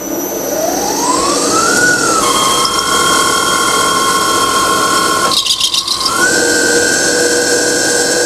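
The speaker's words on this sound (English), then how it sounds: "let's fire up this alternator" An alternator spins on a Sterling Power test rig, its whine gliding upward and then holding a steady high pitch under a broad mechanical hum, with a brief rattling burst before the tone steps up again.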